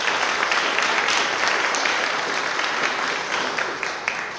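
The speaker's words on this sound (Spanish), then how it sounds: "Le brindamos un fuerte aplauso de todas y todos ustedes." A crowd at a municipal agreement signing ceremony in Zitácuaro gives a strong, steady round of applause, dense and close, holding loud throughout before easing slightly at the end.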